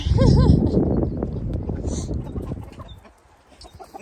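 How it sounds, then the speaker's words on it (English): A small rooster clucks close by in a farm pen, a burst of throaty calls at first followed by softer scattered clucks and faint background rustling. "he's a little rooster"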